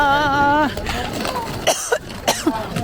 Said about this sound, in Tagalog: inuubo na ako sa lamig